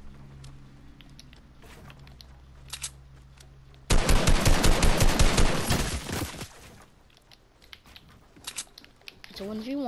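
Fortnite gunfire, a loud sustained burst of rapid automatic shots lasting about two seconds, followed by scattered single shots and game effects, with a player talking nearby.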